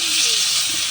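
Broth poured into a pot of sautéing chicken for sinampalukang manok over a wood-fired stove, a steady loud sizzling hiss throughout with no break.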